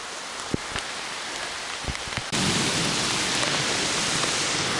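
Steady rain falls on a forest hiking trail near Brown County State Park, a dense hiss that swells heavier halfway through, with a few sharp drips and no voices.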